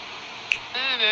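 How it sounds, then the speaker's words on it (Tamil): A single crisp finger snap rings out once, sharp and brief, followed by a sustained tonal sound with a voice in the background. "ஃபிங்கர் வந்து சொடக்கு கொடுத்துட்டேனா"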